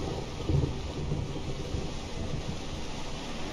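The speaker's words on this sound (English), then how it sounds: "it has been raining non-stop." Rain and thunder in the video game Morrowind: steady hissing rainfall with a low rolling thunder swell early on, continuous and moderately loud, no talking.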